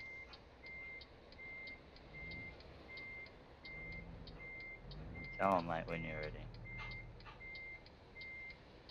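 Truck reversing beeps in American Truck Simulator, a steady evenly spaced electronic beep repeating throughout over a low engine rumble, with someone talking partway through.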